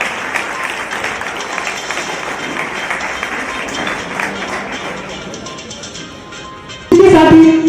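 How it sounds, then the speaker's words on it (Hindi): Audience applause welcomes the MP at a district-level sports competition, a steady crowd clapping that fades slightly before a louder burst of clapping and voices near the end. "जोरदार तालियों के साथ स्वागत करेंगे।"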